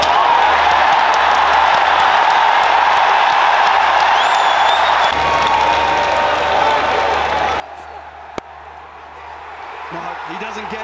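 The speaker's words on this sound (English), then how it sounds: "The crowd." A cricket stadium crowd roars with cheering, whoops and applause after a final-over yorker, loud and sustained before cutting off abruptly into quieter ambience with a single sharp knock.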